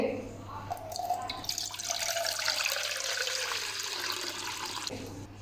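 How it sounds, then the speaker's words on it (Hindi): Water pours and splashes into a bowl, a continuous rushing stream close by that fades near the end. "एक बोल लेंगे, इसके अंदर पानी ऐड करेंगे।"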